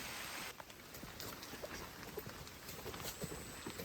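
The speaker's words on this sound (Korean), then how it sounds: "비가 부슬부슬 내리고 있어서요" Light drizzle falling at a reservoir, a faint, steady patter of fine raindrops with soft irregular taps over a continuous hiss, quiet and ambient with no voices.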